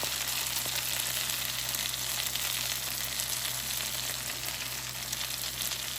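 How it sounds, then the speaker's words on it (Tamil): Curry leaves go into a simmering mutton curry gravy, and a steady, dense sizzle and bubbling carries on at moderate volume with no voices. "இதுக்குள்ளே நான் கொஞ்சம் கருவேப்பிலை போட போகிறேன்"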